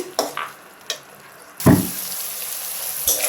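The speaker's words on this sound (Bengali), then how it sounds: "চিংড়ি মাছগুলো ভালো করে কষিয়ে নেব মশলার মধ্যে।" Shrimp sautéing in spice masala for a shrimp and taro-stem curry: a soft frying sizzle runs steadily through, broken by a few short clattering stirring sounds and a louder scrape near the middle, with no talking.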